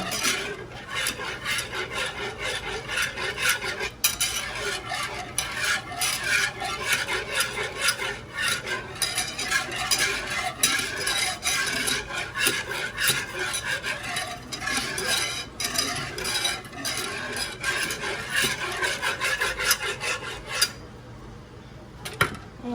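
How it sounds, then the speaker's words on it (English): Alfredo sauce of cream and butter being whisked in a pan over slow heat, with rapid, continuous scraping and clinking of the whisk against the metal pan, close and busy, going quiet only briefly near the end. "we're going to whisk this on slow heat"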